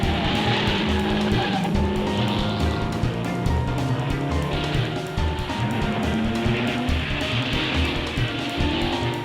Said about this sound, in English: On lap 20, Hawthorne and Collins scream past the pits, straining every nerve, with Fangio snapping at their heels.